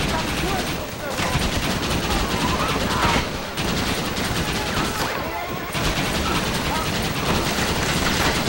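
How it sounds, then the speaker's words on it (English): A Gatling gun fires in rapid, sustained mechanical bursts in the Red Dead Redemption game, a loud rattling stream broken by a few brief pauses. "How are you withstanding a bullet from a Gatling gun"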